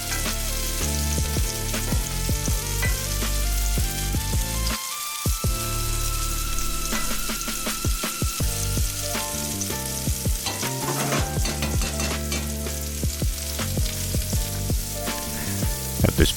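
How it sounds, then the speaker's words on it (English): Onions, peppers, celery and garlic stirred into a simmering pan give a continuous loud sizzle and bubbling, with repeated scrapes and clinks of a utensil against the pan throughout. "we're going to add back our veggies, our onions, peppers, celery, garlic, and stir that in there"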